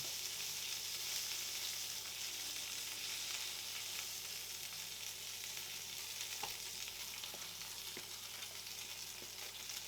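Salmon sears in a hot pan with a dense, steady sizzle and crackle throughout, a few faint clicks of the pan or utensil surfacing now and then, with no voices.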